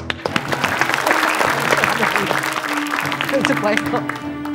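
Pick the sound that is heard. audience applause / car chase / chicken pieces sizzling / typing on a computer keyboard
audience applause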